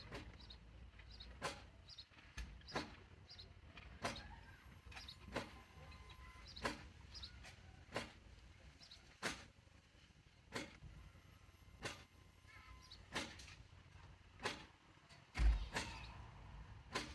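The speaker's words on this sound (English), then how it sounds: "It's just going through gears now." Citroen Berlingo gearbox actuator cycling through gears during programming, with faint whirring motor runs and clicks repeating at a regular rhythm, roughly every second or so, in a quiet setting.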